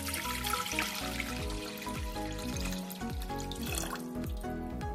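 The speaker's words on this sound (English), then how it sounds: "let's fill the pot up with some water" Tap water runs into a cooking pot being filled for beef rendang, a close, steady splashing stream with repeated gurgling, ringing tones as the pot fills.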